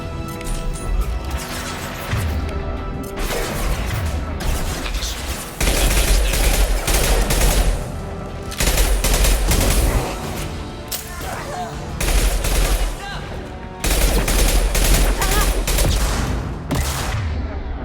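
Gunfire in the video game Mass Effect 2: dense, loud bursts of rapid automatic fire and crashing impacts in repeated blocks with short gaps, under a French voice.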